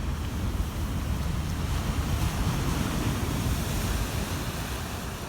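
Ocean waves at a beach make a constant, broad roar of surf with low rumbling wind buffeting the microphone, steady throughout and with no one speaking.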